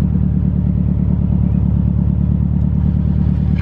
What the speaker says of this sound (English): It idles really smooth too.